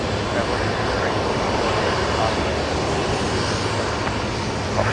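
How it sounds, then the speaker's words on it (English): A Virgin Australia Fokker jet sits near Brisbane Airport at night, a loud, steady engine roar filling the clip without pause, with voices talking over it. "Close up there, the Virgin livery Fokker."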